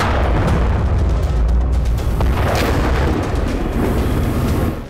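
Heavy bombing in Gaza brings deep, loud rumbling booms that roll continuously with a dense wash of noise, as in war news footage, with no speech.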